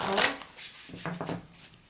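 Lunar Nomad Oracle tarot cards are shuffled in brief bursts of papery riffling and soft slaps, close and fairly quiet, with short pauses between the bursts.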